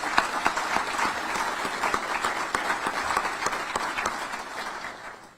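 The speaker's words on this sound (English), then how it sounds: "So round of applause." A crowd applauds steadily for several seconds at a military change of command ceremony, dense overlapping claps at a fairly even level before tapering off at the end.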